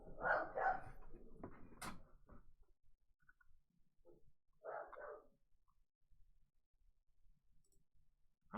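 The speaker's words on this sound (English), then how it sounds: "Dog's going crazy." Dog barking in a room, a few short sharp barks close together at the start, then a quieter pair of barks a few seconds later, with faint clicks and near silence between them.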